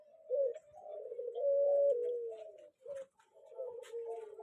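Colored spotted doves (tekukur warna) coo in a steady series of low, mellow calls, close and fairly loud, with brief pauses between phrases and no talking.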